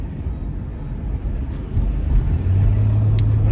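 A car driving in heavy traffic, heard from inside as a steady low engine and road rumble that grows slightly louder and ends in a sustained low droning tone, with no talking.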